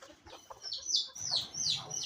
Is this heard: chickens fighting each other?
yes